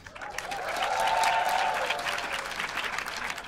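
Audience applause for a stand-up comedian rises quickly into a steady, dense clapping from a crowd that holds for a few seconds before slowly thinning, with no talking over it.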